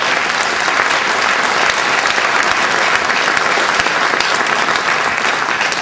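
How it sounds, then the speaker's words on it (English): Dense, sustained applause from a large conference audience at an opening ceremony, with many hands clapping steadily and loudly throughout, with no break and no speech on top. "let's have a round of applause for Eric"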